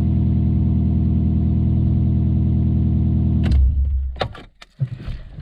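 An Alfa Romeo 147 with a 2.0 TS engine, freshly swapped in, idles with a loud steady drone, then cuts off abruptly partway through, leaving a few clicks and clunks.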